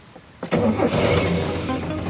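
A car engine cranks briefly and catches, then settles into a loud, steady idle close by.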